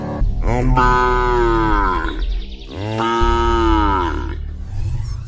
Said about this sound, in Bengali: তাই দেখে গরুটা জোরে জোরে ডাকছে।